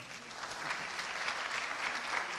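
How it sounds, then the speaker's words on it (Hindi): A festival audience applauds at a live talk event, sustained, moderately loud clapping from a crowd, steady throughout. "सहमत हो तो तालियां बजाएं।"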